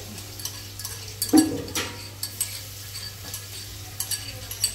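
Curry leaves and garlic sizzle steadily in a hot pan, with intermittent clicks and scrapes of stirring over the constant frying hiss.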